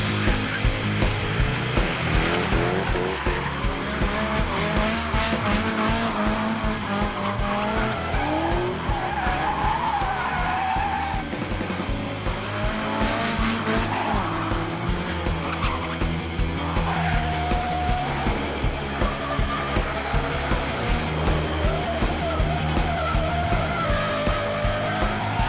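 A Nissan S13 drift car slides around a track, its engine revving hard under long, continuous tire squeal and skidding that rises and falls in pitch, loud and close throughout.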